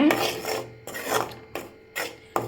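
Rusk pieces are dry-roasted on low heat in a pan and stirred with a utensil, making rhythmic dry scraping strokes about every half second, close and fairly loud.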